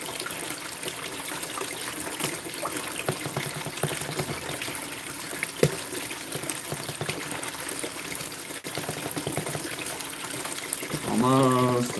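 Water trickles and pours through a sluice box, washing gold concentrate and black sand across the riffles in a steady close-up flow, with a brief voice near the end.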